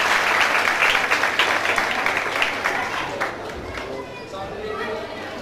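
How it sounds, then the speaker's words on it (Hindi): Audience applause at a foundation event in honour of a trading company, loud and dense at first and then thinning out, with crowd chatter mixed in. "इसके बाद ताहिर नसीम साहब अली ट्रेडिंग कंपनी की तारीफ को तालियां होनी चाहिए।"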